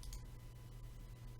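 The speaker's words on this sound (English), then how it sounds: "I'm gonna click my decal," A couple of faint, quick mouse clicks made while selecting a decal in SolidWorks Visualize, heard over a low steady hum.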